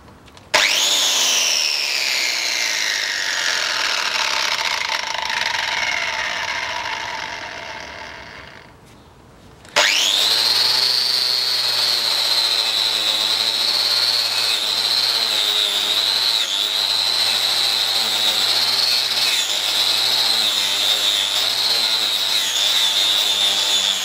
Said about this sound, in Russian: Взял болгарку, вот такую насадку на нее.